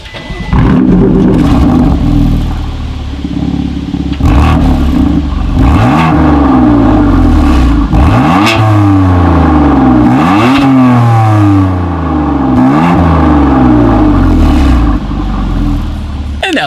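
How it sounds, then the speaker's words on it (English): A 2018 BMW M4's loud performance exhaust revs repeatedly, each sharp rise in pitch followed by a crackling fall, close and very loud. "what you guys have probably been waiting for here is that absolutely insane exhaust clip"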